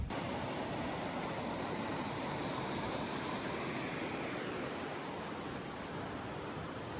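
A powerful waterfall pours into a gorge of milky green-blue water, a steady dense broadband roar that stays constant throughout with no voices.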